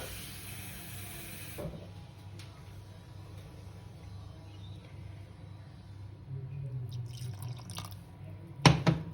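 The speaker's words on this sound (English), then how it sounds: "I'm just gradually adding the water to get to the consistency that I want." Water trickles gradually into a bowl of chana flour batter, a soft steady drip and pour heard close up, with a few small clinks near the end.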